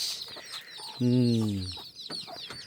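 Chickens are chased, and one lets out a loud, drawn-out squawking cluck close by, surrounded by fainter clucks and rustling with voices in the background.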